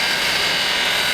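Wood lathe turning and cutting a stool leg, a steady, loud whirring and scraping drone held without a break through a short moment.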